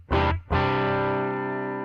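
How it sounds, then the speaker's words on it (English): Clean electric guitar through a Line 6 POD Express clean amp model: a short plucked chord, then a second chord struck and left ringing with a slow decay, played alone. "Let's say you wanted that clean amp sound"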